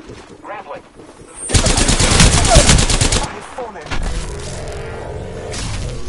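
Dense, loud machine-gun fire in a video game erupts in a sustained close burst lasting a couple of seconds, then gives way to lingering rumble and a steady noisy wash, with some voice chatter around it.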